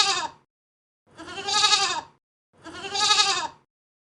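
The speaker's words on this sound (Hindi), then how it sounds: "गोट यानी बकरी। गोट मैं करती है।" A goat bleats three times, each call a drawn-out wavering cry separated by short silences, close and clear with nothing else around it.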